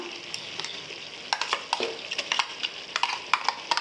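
Ground roasted masala being stirred into sautéing mutton for a Tamil mutton kulambu, a soft steady sizzle broken by a series of scraping stirs and clinks, close and moderately quiet, with no talking.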